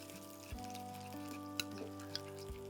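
Potato and drumstick pieces fry in a pan with a soft, steady sizzle, quiet and close, broken by a few light clinks and stirring knocks.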